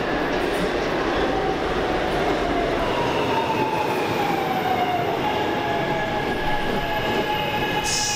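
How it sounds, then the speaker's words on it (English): A train pulls into a station, its steady rumble and rolling wheel noise filling the scene, with faint squealing and rail clatter sustained throughout. "So their train just came."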